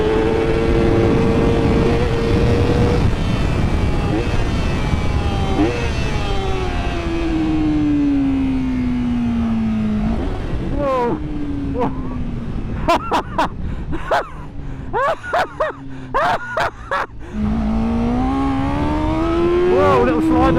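A Honda superbike rides laps of a race track in Thailand, its engine revving hard and loud with rising and falling pitch through gear changes, downshifts and acceleration, with a brief tyre slide.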